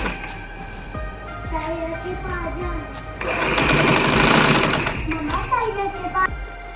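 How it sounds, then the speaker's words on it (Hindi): A sewing machine stitches along an embroidery line on a gents' collar band, running in a loud steady whir for a few seconds after someone talks over a low background hum, then stopping as she speaks again. "बिल्कुल इसके साथ साथ सिलाई लगाना शुरू करेंगे इस तरह से"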